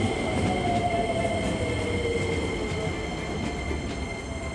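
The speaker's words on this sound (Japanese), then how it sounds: "次から次へ列車がやってくるんですが、いろんな形式、いろんな両数でやってきます。" Keikyu trains pulling into a station platform, a rumbling roll of heavy wheels on rails with faint squeals and clicks, steady and fairly close, gradually easing off as the train slows, with no voices.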